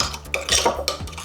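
Hand-mixing a no-cook dish with red chili in a bowl: a few short close clinks and soft scrapes of food and utensil against the bowl, brief and unaccompanied by speech.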